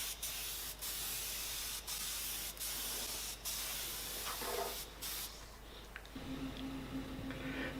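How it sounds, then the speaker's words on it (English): Close, steady hiss of an aerosol spray can painting the base of an Archimedes screw, running in long unbroken bursts with brief pauses, then a faint mechanical hum entering near the end. "here I am spraying the base of the screw"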